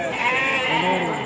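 Sheep at a rural livestock market let out a drawn-out wavering bleat, close and clear, over a faint background murmur.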